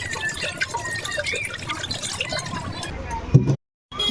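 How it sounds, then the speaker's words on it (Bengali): Water poured from a storage drum into a pot of dal, a steady splashing trickle running for a few seconds before a brief clunk and sudden silence. "ডালে এবার জলও দিয়ে দেবো।"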